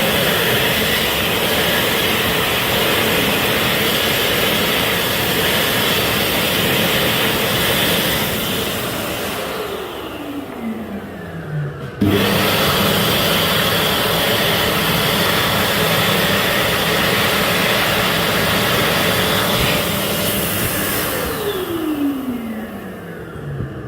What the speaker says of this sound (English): both hand dryers were replaced with Dry Flow Jet Force Juniors